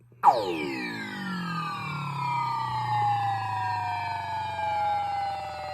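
An electronic sound effect from a Williams Black Knight pinball machine's System 6/7 sound board sweeps down from a sharp high burst into a long, gliding tone that slowly trails off.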